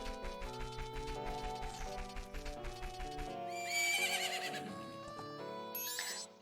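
A horse in the video game Zelda: Majora's Mask trots with steady clip-clop hoofbeats, then lets out a loud, clear neigh and whinny, with a light chime near the end and no talking.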